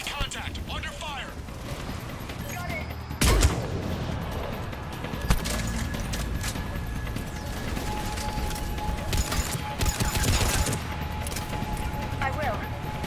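Gunfire in Mass Effect 3 crackles in scattered bursts and sharp shots over mechanical clatter and battle noise, with in-game voices speaking throughout.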